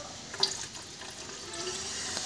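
Petrol measured into a 250 ml Coca-Cola bottle is poured into the tank of a Maruti 800 MPFI car, a steady close liquid stream running for a couple of seconds.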